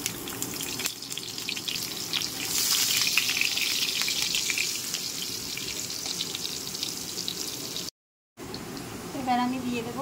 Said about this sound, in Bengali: এবার দিয়ে দিচ্ছি আলুগুলি।